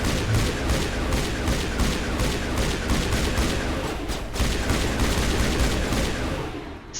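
Sustained gunfire from the Mass Effect video game, a rapid, loud stream of repeated shots and bursts running almost without pause, dense and close, with no talk over it.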